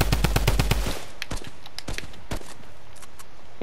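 Shooting video game gunfire: a rapid automatic burst of close, loud shots in the first second, then scattered single shots and faint distant pops against a steady background.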